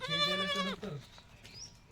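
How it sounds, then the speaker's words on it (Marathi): A weak, underfed young goat kid gives a single close, wavering bleat that trails off into quiet background noise. "आता हे बकरू बघा"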